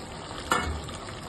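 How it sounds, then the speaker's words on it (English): Hot water poured into a pan of frying mutton with red chili masala, giving a brief burst of sizzling that fades into a soft, steady hiss. "I'm just going to pour enough water to cover the meat"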